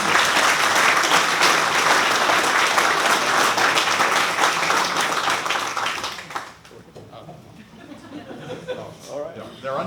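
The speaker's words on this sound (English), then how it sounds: "Let's give him another big round of applause." Loud, dense applause from a hall of fame ceremony audience fills the first six seconds, then thins out into scattered clapping and murmuring crowd voices.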